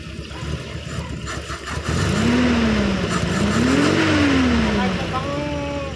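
A car engine accelerates hard while overtaking, revving up through a rising then falling pitch, loud and close, with talk over the quieter opening.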